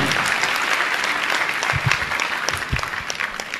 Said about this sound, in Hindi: आपकी तालियां बहुत कम बजती हैं, अरे अच्छी ताली